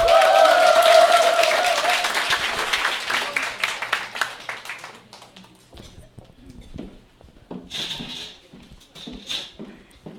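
A crowd at a company event in Korea claps loudly, and the applause gradually thins and fades, giving way to a few scattered claps and quieter sounds.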